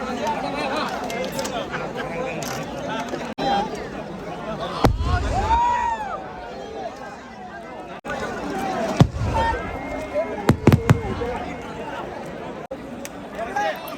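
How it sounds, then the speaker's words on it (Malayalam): Several sharp booms and crackling bursts of aerial fireworks pop overhead at the Nenmara Vallangi night festival in Kerala, some distant and some close, over a steady murmur of crowd chatter and talking. "ഇതാ മുകളിൽ പോയി പൊട്ടുന്ന കുറച്ച് ഐറ്റംസുകളൊക്കെ ഇവിടെ പൊട്ടിക്കൊണ്ടിരിക്കുന്നുണ്ട്"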